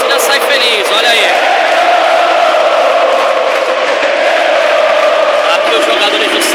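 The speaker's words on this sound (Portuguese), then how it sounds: "A torcida sai feliz, olha aí." Fluminense football supporters leave the stadium after a Brazilian league match against São Paulo, a loud continuous crowd roar with chanting and shouts throughout.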